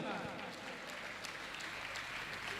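Applause from an audience at a gathering marking ten years of a religious discourse programme, a dense steady patter of many clapping hands filling the whole stretch with some speech mixed in.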